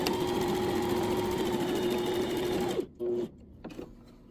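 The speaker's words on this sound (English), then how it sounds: "turn my fabric, put my presser foot down, and start stitching again" A sewing machine stitches fabric for a travel organizer in a steady close whir for nearly three seconds, then stops, starts again in a short burst and gives a few brief faint runs before falling quiet.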